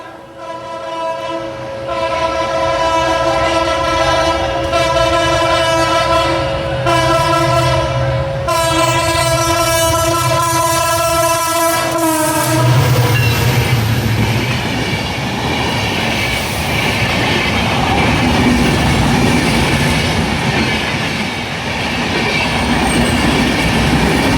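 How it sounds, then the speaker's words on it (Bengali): Madhumati Express, an intercity train bound for Rajshahi, passing through a railway level crossing at Jurain: a loud sustained horn blast followed by heavy rumbling wheels and clattering cars rolling close by. "গেট থ্রু পাস করে গেল রাজশাহী অভিমুখী মধুমতি এক্সপ্রেস"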